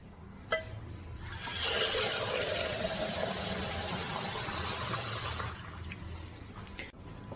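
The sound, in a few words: water being poured into a pot of bones for jus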